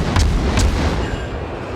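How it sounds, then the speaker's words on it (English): Warship guns fire in the naval combat game World of Warships: two heavy booms land close together, and a rumbling roar fades behind them. "we're gonna get some shots into him, see how these guns fare"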